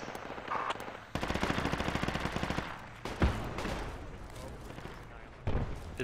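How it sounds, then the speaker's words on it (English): AK rifle fire in the Project Reality war game: a rapid automatic burst of evenly spaced shots, followed by a single louder crack and scattered later shots amid battle noise, with voices talking over it. "Is that an AK I hear northeast?"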